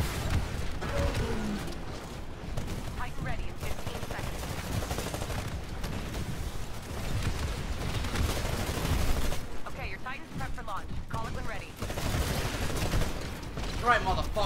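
Bursts of automatic gunfire and mechanical clanks in a Titanfall multiplayer match in Angel City, steady and busy, with a voice talking over the action.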